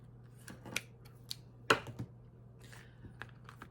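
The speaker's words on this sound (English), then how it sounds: "I'm gonna cut this off here." Scissors snipping through paper and cardstock while making a junk journal masterboard, a few sharp, close cuts spread across a quiet room with a low steady hum.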